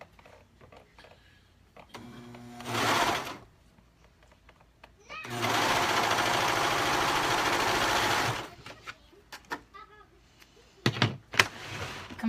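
A sewing machine stitches outer fabric pieces together, right sides facing: a short burst, then a longer steady run of about three seconds, and a final brief spurt, with quiet handling noises in the pauses.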